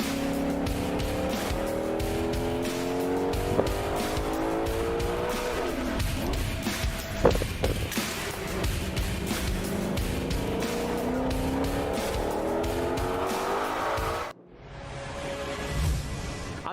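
A drift car at a Formula Drift Pro round, engine roaring steadily up and down through a long slide, with tires squealing and skidding throughout before the sound cuts briefly and resumes.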